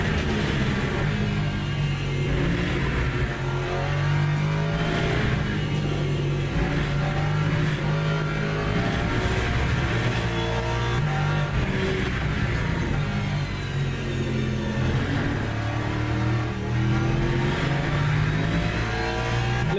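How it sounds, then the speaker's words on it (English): A car engine in a racing video game revs hard as the throttle is squeezed out of a corner, a loud continuous rising drone with shifting pitch that fills the whole stretch. "Trying to squeeze the throttle."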